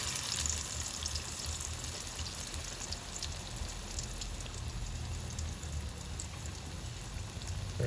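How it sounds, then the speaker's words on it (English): Plantain batter fries in a pan with a steady, soft crackling sizzle that holds at an even low level throughout, with no talking. "So we're just going to fill our frying pan, then we allow this to cook till it's ready."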